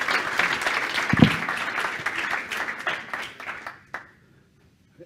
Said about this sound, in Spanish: Un aplauso, por favor, para Adrián.